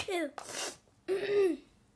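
A single sharp sneeze bursts out, voiced and then breathy, followed by a brief vocal sound.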